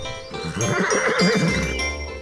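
A horse gives one loud, close whinny with a wavering, descending pitch lasting nearly two seconds, heard alone without talk.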